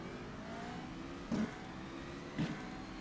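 Formula Renault 3.5 race car in rFactor 2 at Montreal, a steady engine drone with two short revving bursts as it accelerates out of a hairpin, moderately loud and without talk.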